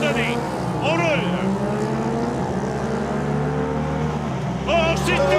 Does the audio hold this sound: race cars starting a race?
yes